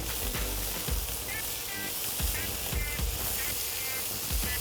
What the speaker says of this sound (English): Give it a quick stir and saute it for a minute.